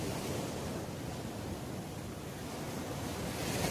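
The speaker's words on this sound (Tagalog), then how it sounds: "Sadyang malakas lang yung alon." Strong ocean waves break along a beach where swimmers wade waist-deep, a faint, steady wash of surf and wind noise rolling on without pause and with no voices.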